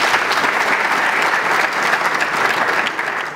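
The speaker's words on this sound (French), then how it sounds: "Je vous demande d'applaudir." An audience at a conference on the DRC and wars with its neighbours applauds steadily, dense sustained clapping that stays loud throughout and tapers slightly at the end, with no voices over it.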